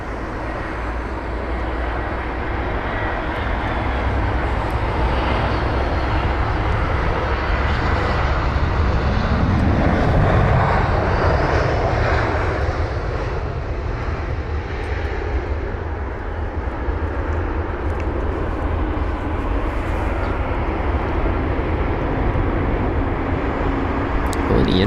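An Airbus A320 jet arriving at London Heathrow gives a steady, loud engine roar that swells to a peak midway and then holds under broad background rumble.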